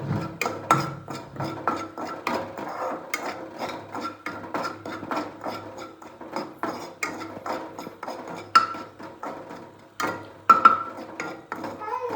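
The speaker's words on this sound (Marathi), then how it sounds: "त्याला व्यवस्थित असं मिक्स करून घ्यायचं" A utensil scrapes and stirs dry semolina around a pan for upma, a steady close run of gritty rubbing and clinking strokes repeating throughout without a break.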